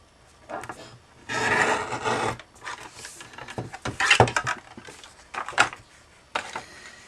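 A border punch cuts away paper to make a punched border tag, giving a series of close, dry rasping crunches and snaps in irregular bursts, with nobody talking.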